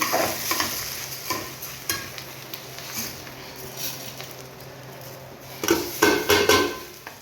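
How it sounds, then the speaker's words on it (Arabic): Rice tipped into a pan after frying golden and stirred, repeated close scraping and clattering strokes over a continuous sizzle, louder bursts of stirring near the end, no speech. "تعالوا كده بقى هننزل بالرز كده بعد ما ادينا اللون الذهبي ده الاصفر الحلو ده اهو"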